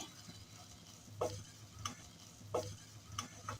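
Roasted gram flour being stirred into minced meat for Hyderabadi dum keema, heard as a few separate scraping strokes of a spoon against the pan about a second apart, close by over a faint low hum.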